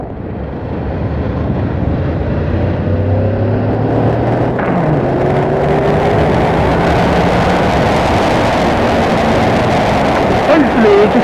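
Honda VFR800 motorcycle engine at speed, its drone rising in pitch and changing tone with the VTEC switchover, partly masked by heavy wind rush.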